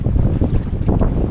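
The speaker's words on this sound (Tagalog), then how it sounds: "Maaraw pero ang lakas din ng hangin." Strong wind buffets the microphone on a sunny day by the shore at Biri Island, a loud, gusty rumble that surges and dips continuously with no voices.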